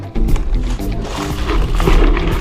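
A motorcycle passes close by during a group ride in Sambong, its loud, low engine drone running throughout and swelling slightly toward the end.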